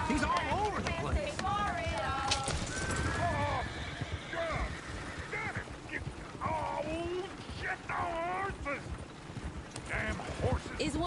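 Horses in the Western video game Red Dead Redemption whinny repeatedly and loudly while hooves clip-clop at a gallop underneath, with characters talking over the action.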